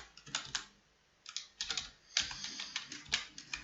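Quick bursts of keystrokes on a computer keyboard while coding in Visual Studio, close and quiet, in clustered clicks broken by short pauses, with no talking.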